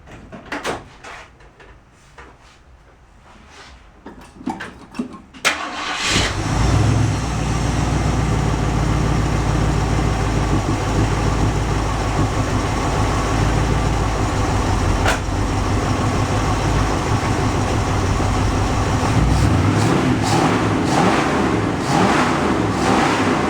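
A 1967 Ford Mustang V8 engine, just out of long storage with its idle turned up, cranks briefly and catches, then settles into a loud, steady, rumbling idle close by with a slight rev toward the end.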